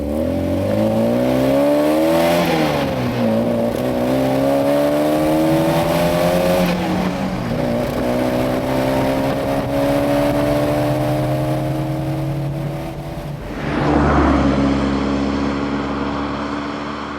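A 1960s Fiat 124 Berlina's 1.2-litre engine runs loud and close, revving up and down with rising and falling pitch before settling to a steady drone, then a sudden deeper shift near the end.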